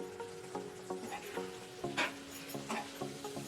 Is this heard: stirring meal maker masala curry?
yes